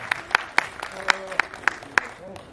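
Audience applause at an awards ceremony, a short burst of distinct, fairly sparse claps in an irregular rhythm, with a voice briefly audible beneath them.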